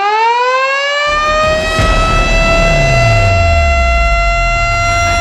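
Siren sounded to open the Indonesian Forum on Labor and Productivity: a loud, continuous rising wail with rich harmonics, winding up from silence and holding steady, with a low rumble underneath.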